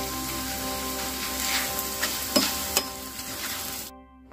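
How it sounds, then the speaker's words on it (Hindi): Poha fries in hot oil with a dense, steady hiss and crackle, joined by a couple of faint utensil clinks, close by, before cutting off abruptly at the end, with no talking. "तो चलिए हम पोहा जो है यहाँ पे फ्राई कर लेंगे।"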